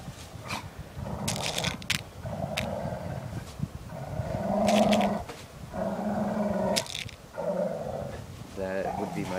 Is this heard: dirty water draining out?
no